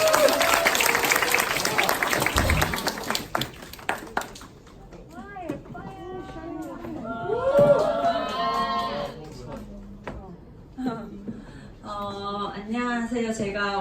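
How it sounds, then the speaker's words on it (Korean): Applause from an audience at a beauty creator academy class welcoming a presenter, dense clapping for the first few seconds that then thins out and gives way to voices and chatter. "우리 예쁘신 장지영 사장님 큰 박수로 모시겠습니다"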